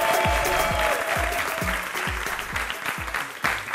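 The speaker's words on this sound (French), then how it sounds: "On va commencer pour l'impro avec Fatim, que je vais vous demander d'applaudir" Audience applause for an improv comedy show performer, a dense steady clatter of many hands at close range, with a few sharper low thumps and scattered voices mixed in, lasting throughout.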